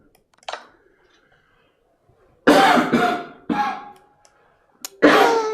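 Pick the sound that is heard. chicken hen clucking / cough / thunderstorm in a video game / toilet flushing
cough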